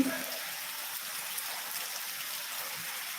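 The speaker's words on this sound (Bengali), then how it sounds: "এই যে মুসলধরে বৃষ্টি হচ্ছে শিলা বৃষ্টি" Heavy rain with hail pours down in a steady, dense hiss, with no break in the downpour across the whole stretch.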